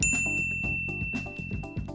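A bright notification bell dings at the start and rings out, followed by a quick series of lighter chimes and tinkles, clear and close with no voices.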